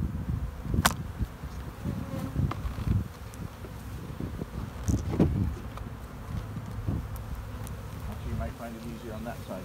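A honey bee colony buzzes steadily through a hive split, with low droning and scattered sharp knocks and clatter from hive equipment being handled nearby.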